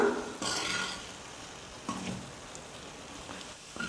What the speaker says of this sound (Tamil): குறைஞ்சது ஒரு 5 நிமிஷமாவது ஸ்டவ்வை மீடியம் ஃப்ளேமில் வச்சுக்கிட்டே குக் பண்ணிக்கலாம்